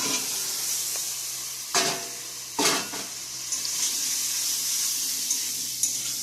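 Potatoes and pointed gourd with spices such as chilli, bay leaf, ginger and cumin fry in a pan, giving a steady close sizzle with a few louder bursts of stirring and clatter, and no talking.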